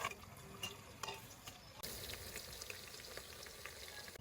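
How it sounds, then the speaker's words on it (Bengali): Onion and garam masala fry in a pan with a steady, faint sizzle, broken by a few scraping stirs of a spoon. "এখন এই পেঁয়াজটা আর গরম মশলাটা সুন্দরভাবে ভাজিয়ে নেব।"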